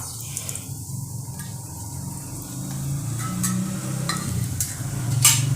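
Whole spices, including stone flower, bay leaf and fennel seeds, sizzle softly in hot oil in a pan. A faint, continuous crackle is joined by light stirring scrapes and a few sharper pops.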